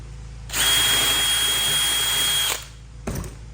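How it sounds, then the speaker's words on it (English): Power drill boring through rivets on a Jeep grille, one close, loud two-second run with a steady high whine, followed by a brief clatter. "I'm going to drill through here to release those rivets"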